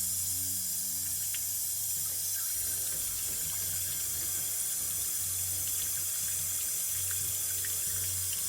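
Running water rinses a BMW S54 Vanos solenoid block, a steady close hiss of flow splashing against metal, continuous throughout with no talking.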